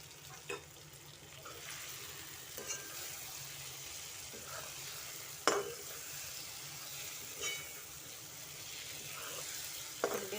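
Brinjal gravy being stirred in a pan for a Mumbai-style dish: a steady low sizzle under occasional scraping clinks of a spoon against the pan, a few sharper knocks standing out, no voices.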